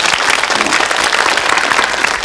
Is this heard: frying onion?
no